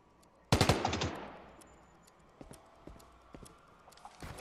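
Gunfire in the Fortnite video game: a loud burst of rapid shots near the start, trailing into a decaying echo, followed by a few scattered fainter shots.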